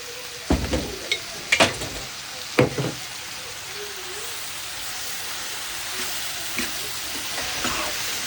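Vegetables, tomatoes and mutton sizzle steadily in a pot, with a few sharp clanks of a utensil against metal early on, then continuous soft bubbling.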